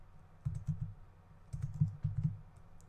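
Quiet keystrokes on a computer keyboard come in two short bursts of a few clicks each, close and faint, with no voices.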